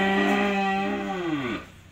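A single long, loud cow moo, close up, with a deep harmonic tone that drops in pitch as it fades out near the end. The cow is an F2 crossbred beef animal standing at a cattle sale lot.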